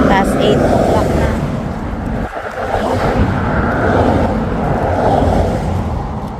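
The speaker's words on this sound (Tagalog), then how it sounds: "Marami na sasakyan ngayon kasi na." Busy road traffic on a morning street in the Philippines, a steady, loud wash of many passing vehicles with engine rumble and tire noise rising and falling continuously throughout.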